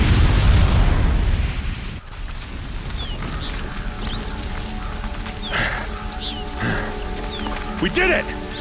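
A bomb explosion in Horizon Zero Dawn bursts loud at the start and rumbles off after about two seconds, followed by quieter ambience with scattered faint cries and a voice talking.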